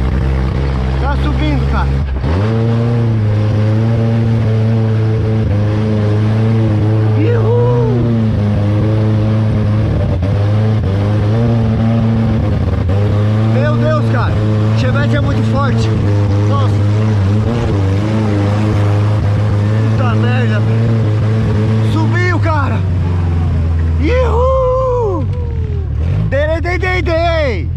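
A Chevette's engine drones and revs hard on an off-road trail, pitch rising and falling with each push of the throttle, loud and close, with excited voices shouting over it.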